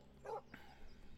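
A puppy in the video game Lost Puppy: Gone Astray gives a single quiet, short yip, followed by a faint whimpering trail over a low background hum.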